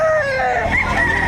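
Roosters crow loudly and close at a livestock auction market in Padre Garcia, Batangas, a single drawn-out cock-a-doodle-doo with clucking fowl around, no voices.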